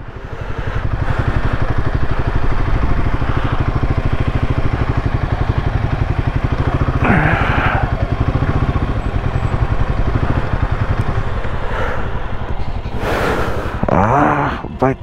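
A motorcycle runs near Longwa village on the India–Myanmar border, its engine throbbing steadily and close for the whole stretch, with a few bursts of wind buffeting the microphone near the end.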